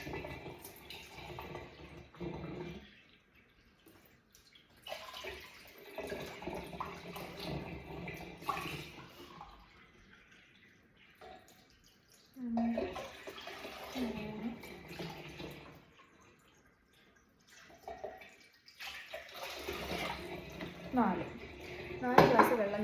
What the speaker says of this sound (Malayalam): ഇതിലോട്ട് നമുക്കൊരു 4 ഗ്ലാസ് വെള്ളം ചേർക്കണം.